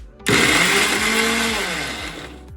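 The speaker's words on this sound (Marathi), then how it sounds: "याचे थोडेसे फोडी करून मिक्सरमध्ये बारीक करून घेऊया" A kitchen mixer grinder blends chopped tomatoes and garlic into a fine paste, starting abruptly and then whirring loudly and steadily close by, its pitch sagging slightly as the load grinds down.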